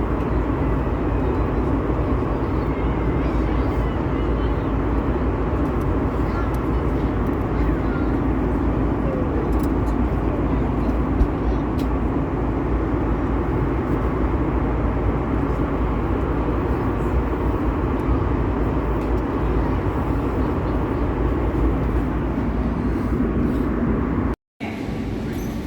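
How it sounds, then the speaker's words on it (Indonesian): A passenger airplane cabin in flight on a trip to Bali holds a steady, low engine drone and airflow rumble that barely varies for over twenty seconds, with faint clicks and a brief cut near the end. "akhirnya kita bisa lepas landas dan Lexi tidur di pesawat"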